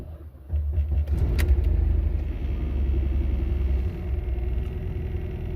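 A 2004 Mercedes E320 engine cranks and catches, then settles into a low, steady rumbling idle close by, with no talking during the run.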